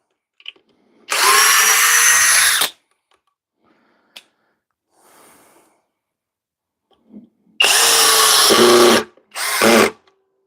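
A Flex compact cordless drill drives screws into wood in two loud bursts of whirring motor, each about a second or more long, separated by quiet pauses with faint handling noises.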